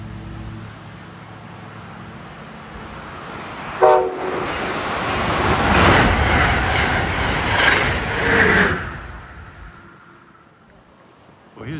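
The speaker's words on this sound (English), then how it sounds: "Here comes Amtrak 662" Amtrak 662, a New York-bound passenger train from Harrisburg, passes Princeton Junction, New Jersey, with a brief horn blast, then a loud, steady roar of cars rushing by that swells and fades as it goes.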